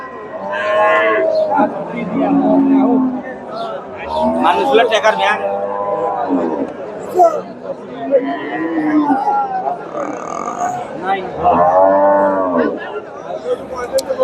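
A dairy cow moos several times at a cattle market, long drawn-out lowing calls close by, mixed with people chattering and murmuring nearby.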